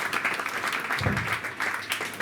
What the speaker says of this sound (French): Nous vous demandons d'applaudir encore une fois.